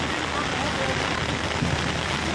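A heavy downpour during a thunderstorm hammers down as a dense, continuous, loud hiss with no gaps, and faint voices are buried under the rain.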